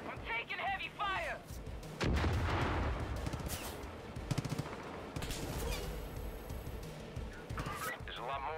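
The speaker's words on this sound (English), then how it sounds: "I'm taking heavy fire." Heavy gunfire in the video game Far Cry 5, dense bursts of shots and explosions rumbling through a chaotic firefight, with a voice talking over it at the start.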